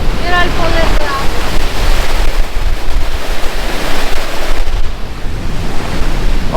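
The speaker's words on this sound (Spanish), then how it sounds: "ahora la cascada que voy a ver ahí justo debajo me va a impresionar mucho" Powerful waterfall at Trollstigen, Norway, a loud, continuous rushing roar of falling water heard up close, buffeted by wind noise, with a brief voice near the start.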